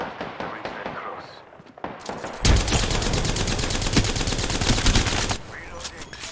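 Rapid automatic gunfire from the video game Apex Legends, a loud sustained burst of shots lasting about three seconds, preceded by scattered single shots and game sounds, with a voice speaking nearby.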